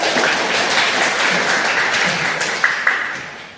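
Clapping from an audience at a training session, a fairly loud, even stretch of many hands with a couple of sharper individual claps near the end.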